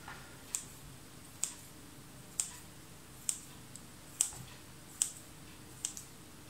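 Pointed scissors snip and press down through the egg-washed edge of pastry dough, giving seven short crisp clicks at an even, steady pace, close and clear with no talking over them.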